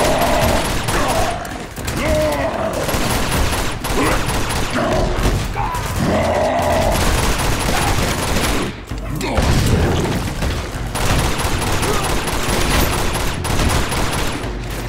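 Gunfire from the video game Uncharted 2: Among Thieves, loud and sustained for the whole stretch, with dense bursts and booms under excited talk from players.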